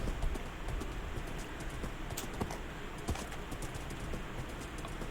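Horse hooves in Minecraft clip-clop in a steady run of quick steps over a constant background hiss, with no talking.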